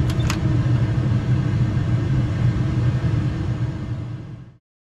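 ATR turboprop aircraft engines at takeoff rotation, a loud, steady low rumbling roar with a couple of brief clicks at the start, sustained before cutting off abruptly near the end.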